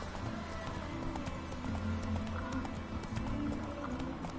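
A horse gallops with a steady, rapid clip-clop of hooves in The Witcher 3: Wild Hunt, a moderate drumming rhythm running continuously under game ambience.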